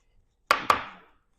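A knife slicing through purple cabbage on a cutting board: two close, sharp chops about a fifth of a second apart, each with a short crunchy ring-out.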